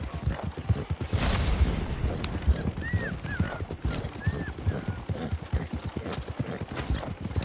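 Horse hooves clip-clop steadily, close and clear, with creaking tack and occasional snorts or whinnies; no separate slap of reins stands out.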